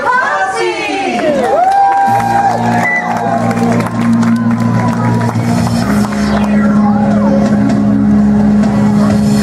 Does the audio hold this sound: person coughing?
no